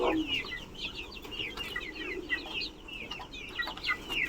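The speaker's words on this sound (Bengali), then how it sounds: "যেগুলো দেখতে পাচ্ছেন টাইগার মুরগি। 3টা মুরগি, একটা মোরগ আছে।" Tiger breed hens and a rooster clucking at a farm in Savar, Dhaka, a close cluster of repeated clucks and short calls over a soft background hum.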